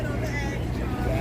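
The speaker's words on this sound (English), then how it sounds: "M96 crosstown bus, one of many." An M96 crosstown bus passes on a New York street near Fifth Avenue during the Museum Mile Festival, a steady low engine rumble and traffic roar mixed with a crowd's chatter nearby.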